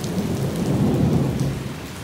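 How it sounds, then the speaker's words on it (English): Heavy rain pours steadily during a severe thunderstorm on a college campus, a dense, loud, continuous wash of rain with a deep rumble of thunder swelling through the middle, close and without talk. "it's pouring down rain to the point where there's a severe thunderstorm warning"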